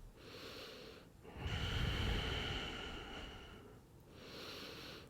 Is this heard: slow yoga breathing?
yes